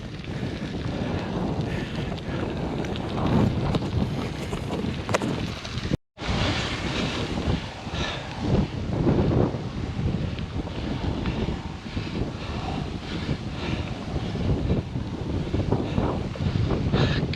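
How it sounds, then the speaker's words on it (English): Constant wind buffets the microphone outdoors on an open, soggy trail, a loud continuous rumbling roar with gusty swells and one brief dropout. "Constant wind."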